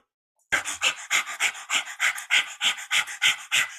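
Rapid rhythmic panting breaths during a kundalini yoga digestive detox practice, about a dozen quick, even, forceful exhalations in steady succession after a short silence, close and loud with no talking.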